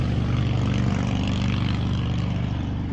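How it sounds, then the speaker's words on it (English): A motorcycle passes on a highway close to a campground in Talimena State Park, southeastern Oklahoma, producing a loud, steady engine drone that holds nearly level throughout. "You probably heard that motorcycle"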